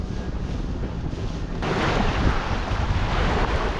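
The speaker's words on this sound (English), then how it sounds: "we're already like getting serious gusts here" Strong wind gusts on Lake Eildon buffet the microphone in a loud, rumbling roar that surges stronger partway through, with no voices.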